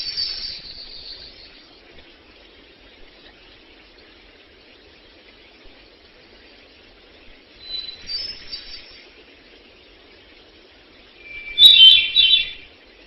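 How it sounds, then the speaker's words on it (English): A wild thrush sings outdoors, with a brief high phrase at the start, another a few seconds later and a louder burst near the end, separated by quiet stretches. "It's a thrush that is singing out in the wild."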